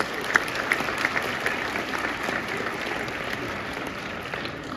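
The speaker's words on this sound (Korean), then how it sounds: "박수!" A crowd at a Korean politician's introduction event breaks into a steady, even wash of applause that stays level throughout, with no voices standing out above it.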